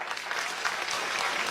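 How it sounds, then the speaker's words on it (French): Steady audience applause at a Quebec talk or comedy show, dense and continuous clapping from a crowd at moderate distance, with no voices over it. "On applaudit, pourquoi?"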